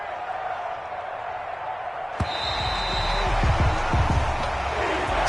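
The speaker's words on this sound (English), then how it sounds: "And the home crowd applauding." A home crowd cheers and applauds in a basketball video game, a steady wash of noise that swells louder toward the end, with ball bounces and thumps under it.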